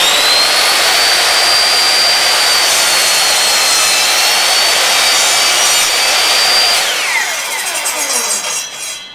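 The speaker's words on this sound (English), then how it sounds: "we're gonna switch the setting on the miter saw to 15 degrees" A miter saw set to a 15-degree angle cuts a piece of wood during a school bus conversion build, a loud, steady high whine that holds for several seconds and then winds down as the blade slows.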